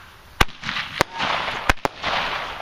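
New Year's fireworks and firecrackers going off outdoors: four sharp loud bangs at uneven intervals, the last two close together, with crackling and hissing between them.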